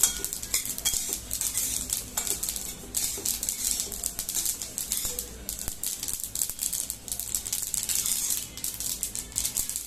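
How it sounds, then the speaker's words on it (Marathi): Sesame seeds crackle and pop while roasting in a kadhai over a gas flame, a dense stream of close, sharp little ticks and spatters that carries on steadily throughout. "असे भाजायला लागले एवढे तडतड उडतात आणि असे बाहेर सगळे उडतात कढईतून"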